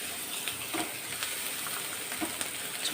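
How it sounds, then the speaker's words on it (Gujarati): Chopped onion sautéing in a pan toward golden brown for a sandwich dhokla stuffing: an even, quiet hiss of frying with a few faint clicks of stirring, heard alone. "ડુંગળીને આપણે ગોલ્ડન બ્રાઉન કલરની થાય ત્યાં સુધી સાતરી લઈશું"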